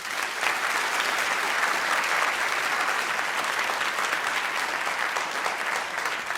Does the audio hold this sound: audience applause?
yes